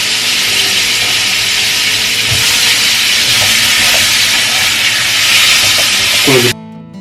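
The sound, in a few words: vegetable stems frying in butter with onion and chili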